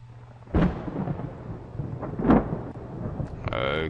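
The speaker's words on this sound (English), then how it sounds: "we have thunder in the background" A thunder sound effect rolls and rumbles through with a couple of louder cracks, backed by a steady wash of rain-like noise.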